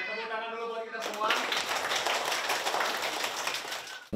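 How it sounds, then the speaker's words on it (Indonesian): A group claps together at a youth gathering, a burst of mixed applause that starts abruptly after a brief spoken voice and continues steadily for a few seconds before cutting off. "Tepuk tangan dulu buat kita semua."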